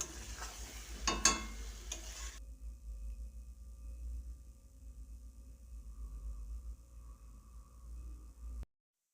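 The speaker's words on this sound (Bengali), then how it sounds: "আলুগুলো দিয়ে এক দু মিনিট মতো কষিয়ে নেব" Large chunks of potato sautéing with spices in a pan for a Bengali methi chicken dish: a close scrape and clatter at the start, then a soft, steady sizzle that runs on quietly until it cuts off.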